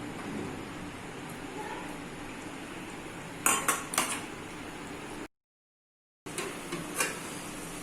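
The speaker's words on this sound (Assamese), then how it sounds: "এতিয়া এইখিনি আমি ঢাকি দিম অলপ সময়।" A lid is set onto a cooking pot of simmering chicken curry, giving a few sharp metallic clanks in quick succession over a quiet background hiss. After a brief gap, more lighter clinks follow.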